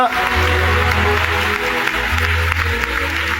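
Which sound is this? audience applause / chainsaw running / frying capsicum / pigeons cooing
audience applause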